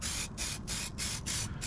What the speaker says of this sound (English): get ready to spray our next coat